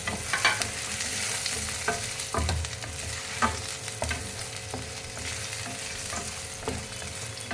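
Green chillies, ginger pieces and cashews sizzling in hot oil in a pan while being stirred, a steady crackling fry broken by occasional scrapes and clinks of the spoon, close and fairly soft.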